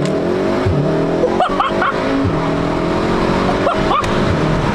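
A tuned VW Golf 7R engine revs and accelerates hard, a loud, close, continuous drone with rising harmonics and a couple of sharp pops or crackles in the middle.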